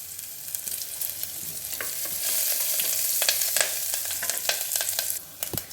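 Curry leaves and chopped onions fry in hot oil for a batani sherwa, sizzling and crackling steadily up close, with occasional scraping from stirring and no talk.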